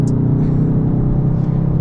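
A 2019 Dodge Charger R/T accelerating hard, heard from inside the car as a loud, deep engine roar that holds steady and close for a couple of seconds.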